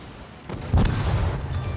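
Heavy naval guns from warships in a World of Warships sea battle boom out, a broad low blast landing mid-clip and rumbling on loudly amid the ongoing battle noise.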